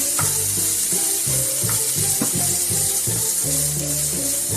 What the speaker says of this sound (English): at this point, you can add in the cauliflower now